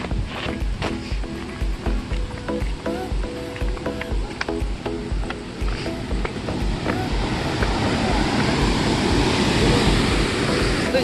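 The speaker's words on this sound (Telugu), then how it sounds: "ఇక్కడ పోతే చాలా హెవీ ఫోర్స్ తోటి వస్తుంది ఇక్కడ వాటర్ అంతా" Water rushes with heavy force at Pakala Lake, a steady broadband roar that swells louder toward the end, with faint voices and handling noise mixed in beneath it.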